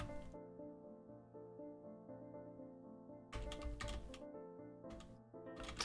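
Keyboard typing in the video game Blue Prince, with bursts of quick clicking key taps over a steady sustained musical drone, fairly quiet overall.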